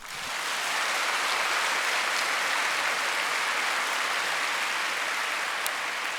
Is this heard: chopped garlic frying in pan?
no